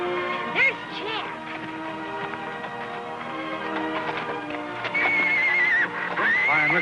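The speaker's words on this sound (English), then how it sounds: "Fine-looking horse." A horse neighs and whinnies loudly several times over a busy outdoor scene, with background voices and a sustained musical tone underneath.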